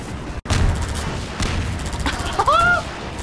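Gunfire in Half-Life 2, a rapid run of repeated shots with heavier booming hits against a constant noisy game background.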